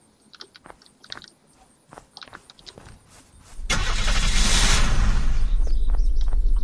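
A car engine in the video game Unturned, starting with a sudden loud roar after a few seconds of faint clicks and shuffling, then settling into a steady close idle.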